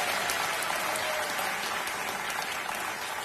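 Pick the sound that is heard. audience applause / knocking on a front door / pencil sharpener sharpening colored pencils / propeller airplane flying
audience applause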